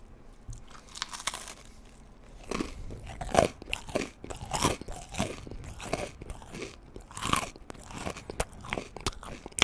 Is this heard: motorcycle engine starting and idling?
no